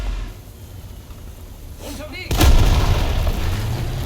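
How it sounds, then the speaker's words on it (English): Tank cannon firing a shell through a building in War Thunder: one sharp, loud blast with a heavy low boom that rings out, following a quieter stretch of engine rumble. "You'll see that if I fire through the building again"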